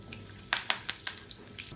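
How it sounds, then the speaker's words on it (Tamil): Fennel seeds crackle in hot oil in a kadai, a handful of sharp, close pops scattered over a quiet sizzle with no voices. "இப்போ சோம்பு பொரிய ஆரம்பிக்குது"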